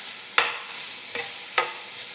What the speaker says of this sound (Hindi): अब मैं इसमें प्याज, शिमला मिर्च, ऑलिव्स ये सब डाल के अच्छी तरह से मिक्स करूँगी